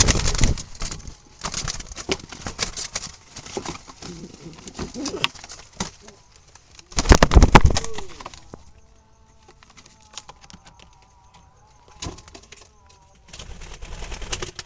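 Pure Jalali wild pigeons, including a black male, are kept in baskets and coo in low, repeated calls, with bursts of rustling and handling noise and some brief talk in between.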